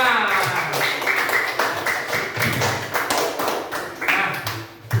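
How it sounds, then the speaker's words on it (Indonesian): Schoolchildren in a classroom clap for a group, a fairly close, uneven patter of hand claps and taps with some thumps, gradually thinning out, with murmuring voices underneath. "Ya, berikan tepuk tangan yang untuk kelompok 5."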